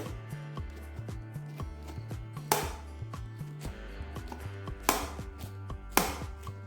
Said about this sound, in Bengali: আর এই যে কচি অংশটা এটার ফেলার কোনো দরকার পড়বে না এইভাবে একটু এইভাবে একটু কুচিয়ে নিলেই হয়ে যাবে